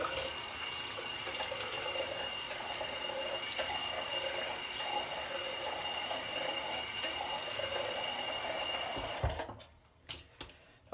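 Warm water runs from a tap for wetting the face before a shave, a steady close hiss lasting about nine seconds before it cuts off, followed by a few brief knocks.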